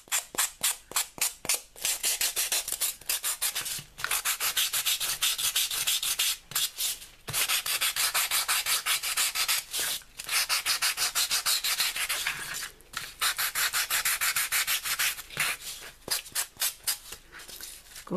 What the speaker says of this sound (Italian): Io prendo una lima per unghie e vado a, vedete,